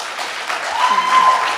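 Crowd applause at a debate between Bexar County judge candidates, a loud, close burst of clapping from a live audience that swells and holds steady for a moment.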